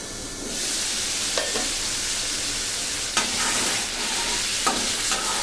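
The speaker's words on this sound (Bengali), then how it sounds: "এই জন্য এটা একটু কাঁচা মশলা যেটা আদা, রসুন, পেঁয়াজ এগুলি একটু কষিয়ে ভালো মতন নেবেন।" Raw ginger, garlic and onion masala fries in a pan with a steady loud sizzle, while a spatula scrapes and stirs at intervals and no one speaks.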